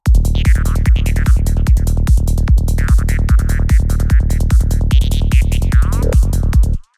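A synth texture from Pigments with automated Valhalla quarter-note delay, a steady pulsing pattern of short hits under a sweeping, squelchy tone, ending abruptly, loud and with no voices.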